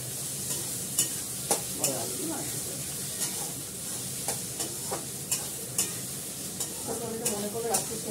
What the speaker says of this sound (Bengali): ভাজাটা হোক, তারপরে মাংসটা দেবো